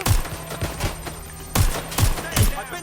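Gunfire in Watch Dogs Legion comes as several loud, rapid volleys of shots, short bursts of cracks separated by brief pauses.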